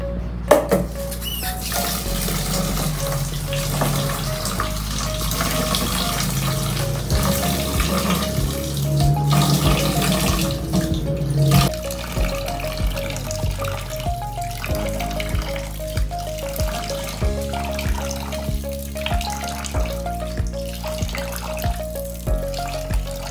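Rice washed by hand under a running kitchen tap, a steady splashing water stream with stirring and sloshing of grains in a pot, close and continuous throughout over a soft musical tone.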